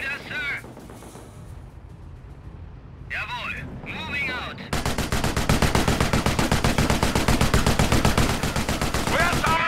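Dense, rapid gunfire from a Company of Heroes: Tales of Valor battle in the Operation Market Garden campaign, a steady machine-gun rattle that starts partway through and keeps going, with short voice lines from units heard before it.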